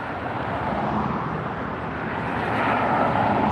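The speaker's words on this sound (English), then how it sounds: "Next arrival is going to be the Delta Airlines special livery, the SkyTeam livery on the 737-800." Delta Air Lines Boeing 737-800 in SkyTeam livery arriving at LAX, a loud, steady jet roar close by that swells slightly toward the end.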